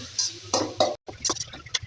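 Spice paste of onion, green chilli, ginger, garlic and cumin is stirred in a pot for biryani, with a few scraping, clinking strokes of a utensil against metal that come in short bursts with a brief pause between them.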